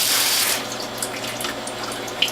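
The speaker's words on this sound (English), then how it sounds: "and then spray with water to clean it." Water sprays onto the screen and pulp of a WHF juicer during cleaning, giving a steady broadband hiss that is strongest for the first half second and then continues as a softer, even splashing rush.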